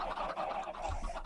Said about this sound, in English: The noise is from an automatic chicken farm.